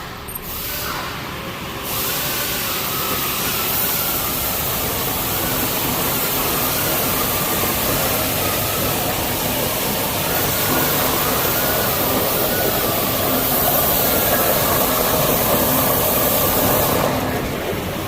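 A car picks up speed during a dealer's test drive as a loud, steady broadband roar of engine, tire and wind noise holds for most of the clip, with no speech.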